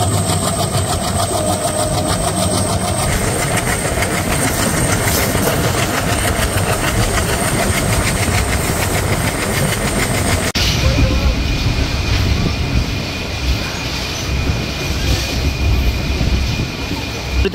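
Titumir Express, a Bangladeshi passenger train between Rajshahi and Chilahati, rolls along the rails with a loud, continuous rumble and engine drone heard from inside the coach, the tone shifting abruptly partway through.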